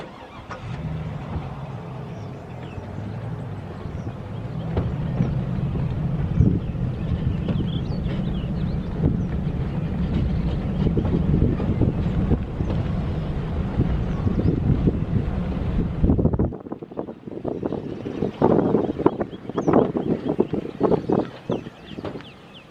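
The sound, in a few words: boat motoring out on a lake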